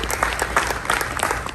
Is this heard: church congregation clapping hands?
yes